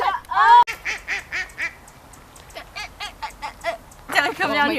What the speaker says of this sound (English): Jen, they're ducks.